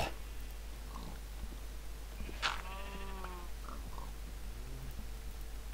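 A single Minecraft sheep bleat rises over a low steady hum, followed by a few softer animal sounds, with no talking.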